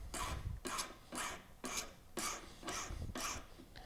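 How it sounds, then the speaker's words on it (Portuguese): A hand file rasps across a gold ring during jewelry repair, in eight even back-and-forth strokes, close and steady with no voices. "Então eu vou agora acertar com uma lima."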